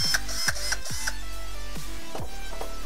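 A cordless screwdriver runs after being submerged underwater, giving several short whirring bursts with sharp clicks and stops between them, close and fairly loud with no voices.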